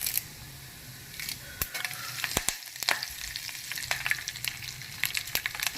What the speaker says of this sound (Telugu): ఇవి చక్కగా వేగుతున్నాయి.